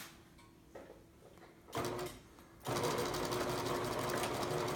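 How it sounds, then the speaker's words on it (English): A sewing machine stitches the side seam of a photo pillow, starting with a few quiet, brief mechanical clicks and short bursts before settling into a louder, steady run of rapid needle strokes. "I'm going to go to the machine and sew the other side"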